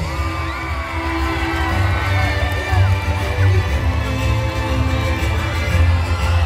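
An audience applauds and cheers for the overall champion at the closing ceremony of a Quran recitation competition (MTQ) in Muara Jawa Pesisir, Kutai Kartanegara, a loud crowd roar with whoops over a low musical hum.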